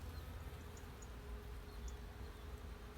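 Bees foraging for nectar and pollen on strawberry tree flowers outdoors, giving a faint, steady buzzing over a low background rumble with no talk.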